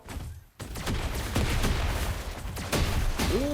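Gunfire in the mobile battle-royale game PUBG Mobile rattles in dense, continuous bursts of rapid shots at steady loudness, with a brief gap near the start and a rising electronic tone at the end.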